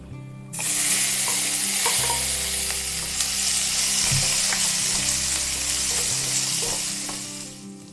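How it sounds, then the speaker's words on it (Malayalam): Chopped green chilli, ginger and onion sautéing in a hot pan for aval upma, a loud, steady oil sizzle that starts abruptly and carries on with occasional scrapes of a spatula stirring. "അതിലേക്ക് നമ്മൾ നേരത്തെ അരിഞ്ഞു വെച്ചിരിക്കുന്ന പച്ചമുളക്, ഇഞ്ചി, സവോള ഇത് നമുക്ക് ചേർത്ത് വഴറ്റിയെടുക്കാം"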